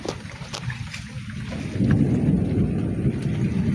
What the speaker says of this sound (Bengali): আকাশ ডাকছে আর বিদ্যুৎ চমকাচ্ছে প্রচণ্ড